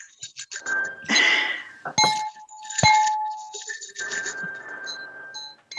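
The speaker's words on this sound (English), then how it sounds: "And we can ring our bells." Small hand bells rung over a video call during a church service, several bright clinking rings scattered through the clip with overlapping tones and short gaps.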